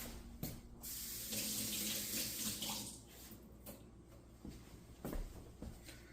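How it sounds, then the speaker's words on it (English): Running tap water pours into a kitchen sink as a hand is rinsed, a steady close splashing stream with brief knocks and shifts as the hand moves. "Let me quickly rinse my hand."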